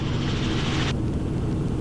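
Helicopter climbing at about 60 knots, light on fuel with a single pilot aboard: a steady, loud broadband rotor and engine roar fills the cabin without pause.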